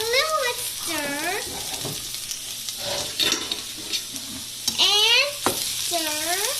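Cooked potatoes are stirred in a frying pan, with a steady sizzle and scraping spoon strokes, while a voice speaks briefly in several short bursts.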